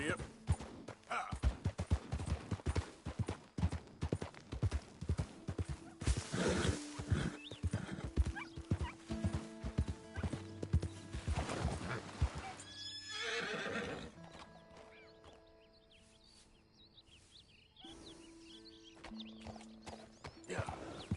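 Galloping horse hooves in Red Dead Redemption 2, with rapid clip-clop rhythm throughout and a neigh or whinny rising midway, close and loud amid game sounds and occasional gunfire, with brief speech.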